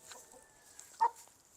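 Chickens give a few soft, faint clucks around a rooster while being fed grain, with one brief louder cluck standing out against a quiet background.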